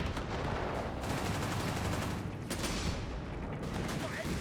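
Tank gunfire in the video game Company of Heroes 3 rumbles in dense, noisy bursts with sharp blasts and mechanical clatter, loud and continuous in the thick of battle.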